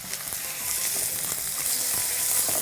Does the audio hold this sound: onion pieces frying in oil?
yes